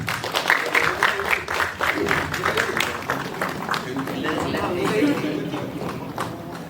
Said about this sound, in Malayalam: ഒരു കൈയടി, റൗണ്ട് ഓഫ് അപ്ലോസ് പ്ലീസ്.